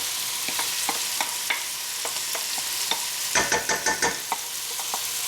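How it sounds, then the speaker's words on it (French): Onions fry in melted butter in a pan with a constant bright sizzle, punctuated by light spatula taps and a quick run of stirring clicks partway through. "Je fais revenir mes oignons"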